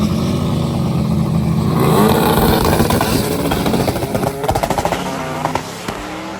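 Loud, roaring drag racing engines, including a Camaro, building to a harsh, crackling rumble, with rapid popping bursts as the cars launch hard and pull away.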